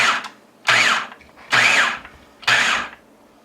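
A food processor pulses tomatoes for salsa in three short, loud whirring bursts with brief pauses between, each motor spin rising and falling quickly.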